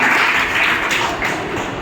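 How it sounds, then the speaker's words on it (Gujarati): Audience clapping to welcome a guest at a gathering, a dense, steady wash of applause, loud and close throughout the short stretch with no voices over it. "ત્યાર પછી તાળીઓના ગડગડાટથી આપણે સૌ બાલકદાસજીનું હાર્દિક સ્વાગત કરીશું."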